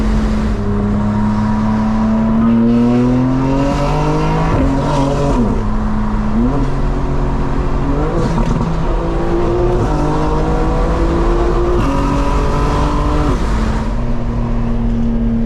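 A tuned 900hp 2025 BMW M4 Competition xDrive pulls hard at open throttle, its loud engine note climbing through repeated gear shifts, each upshift dropping the pitch before it rises again, heard close from inside with no talk.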